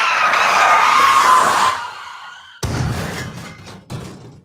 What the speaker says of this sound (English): Ozzy Perez asked for a car crash sound.